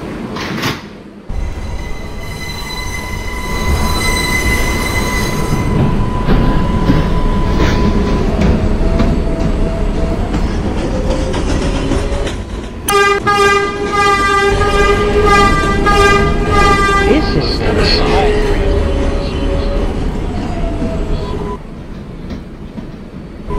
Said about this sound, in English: This is a Bronx-bound 4 train.